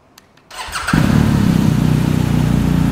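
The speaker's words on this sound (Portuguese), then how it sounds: "R1250GS, chave de presença, já está aqui, não precisa apertar a embreagem, motor bicilíndrico, boxer." A BMW R1250GS boxer twin motorcycle engine is started with keyless ignition, cranking briefly and then catching into a loud, steady idle up close, with no talking.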